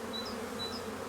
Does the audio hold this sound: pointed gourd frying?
no